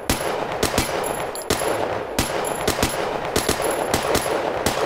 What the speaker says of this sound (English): then I can shoot this clay target, or you can just shoot the swinger